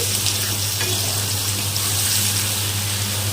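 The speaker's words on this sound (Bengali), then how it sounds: "তরকারিটা ভাজা হচ্ছে" A vegetable curry frying in a pan, giving a loud, continuous close-up sizzle that stays even and unbroken throughout, with a low steady hum beneath and no voices.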